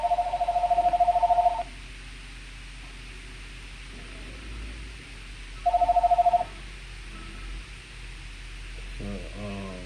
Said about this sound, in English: this is the phone.